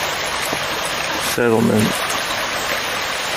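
Roush Creek flows beside a campsite in the Appalachian Mountains as a steady, even broadband rush throughout, with someone briefly speaking over it midway.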